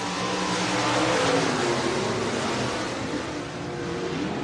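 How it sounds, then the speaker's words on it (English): Stock cars at Buena Vista Raceway roaring away together at the green flag start, a dense, loud, sustained engine drone from the pack. "We are 2x2, side by side, nose to tail. And looking for the green flag off of turn number 4, and here we go."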